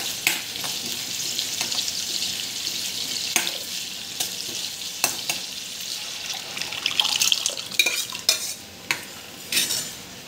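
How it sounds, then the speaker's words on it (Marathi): Mustard seeds sizzle and crackle in hot oil at home, with a steady bright hiss broken by sharp pops and stirring clatters, close and moderately loud, with no talking. "आता मोहरी पण टाकते आपण थोडीशी, साधं गरम बनवणार आहोत आपण।"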